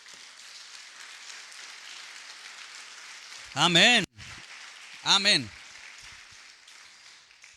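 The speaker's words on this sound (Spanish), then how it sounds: "dale un aplauso al Señor entonces" A church congregation applauds steadily, a dense, even wash of clapping like rain that runs throughout, while a voice speaks briefly twice over it.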